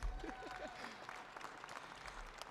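Applause rises at a school choice press conference, with a quiet scattered clapping from a small audience heard at a distance, steady for a couple of seconds and then dying away.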